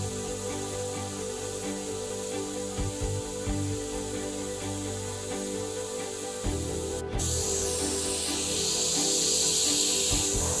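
A SprayGunner beginner airbrush spraying, a continuous close hiss over a low mechanical hum that grows brighter and louder partway through, with no talk.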